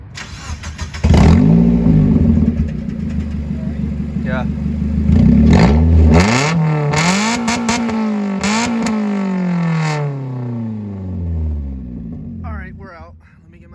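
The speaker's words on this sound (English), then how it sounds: "We're gonna get a little exhaust clip" A 1999 Mazda Miata NB1 engine fires up and revs loudly through its exhaust close by, with several rising and falling pulls before dropping to a rumble and fading out, and a short spoken remark near the end.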